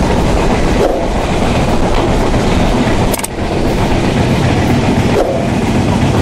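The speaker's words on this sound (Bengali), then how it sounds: "একটার পর একটা বাস ট্রাক এবং কি মোটর বাইককে ওটি দিয়ে ছুটে চলেছে আন্তনগর পদ্মা এক্সপ্রেস।" The Padma Express intercity train runs at speed on the rails, a loud continuous rumble with rhythmic clickety-clack, heard close from on board with no talk.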